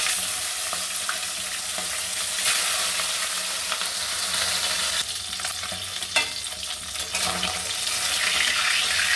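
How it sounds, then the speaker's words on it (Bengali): Bata fish sizzle and crackle in hot mustard oil, a steady bright frying hiss with occasional louder spits and stirring scrapes, close up and with no talking. "এখন দিয়ে দিচ্ছি বাটা মাছ।"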